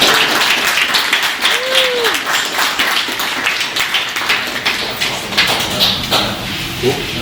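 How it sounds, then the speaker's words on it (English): A brewery crowd applauds the panelists after a panel discussion, a close, busy burst of clapping that stays steady throughout, with a brief whistle and some talking mixed in. "let's give a round of applause for our panelists"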